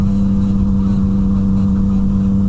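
Loud, steady engine drone from a Yamaha FZ09 or Honda CBR1000RR motorcycle held at revs, a strong sustained hum with no pauses and no talk over it.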